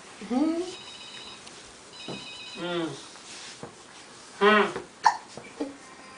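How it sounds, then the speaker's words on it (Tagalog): A 16-month-old toddler hiccups several times in short, voiced bursts, with babbling and adult voices nearby. "Yung sinok yan, oh."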